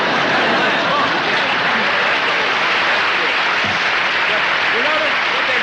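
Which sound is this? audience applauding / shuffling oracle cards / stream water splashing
audience applauding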